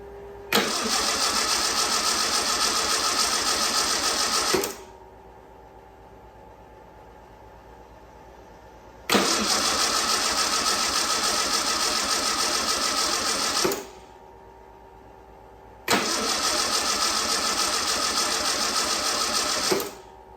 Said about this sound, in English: Let's just give it a few cranks and see what it does.